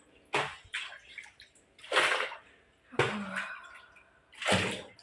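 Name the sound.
water filling a bucket from a motor pump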